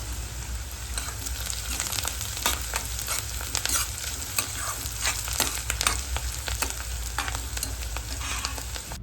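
Chopped green chilies and asafoetida sizzle steadily in hot oil for kaddu ki sabji, a continuous bright crackle with scattered sharper pops and spoon stirring, no talk.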